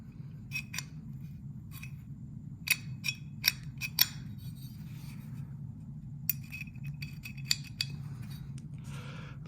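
A magazine catch is fitted into an AR rifle build, producing a series of small, sharp metallic clicks and ticks spread across the clip over a steady low hum.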